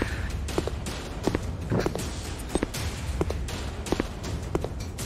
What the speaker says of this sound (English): Hear my slow footsteps.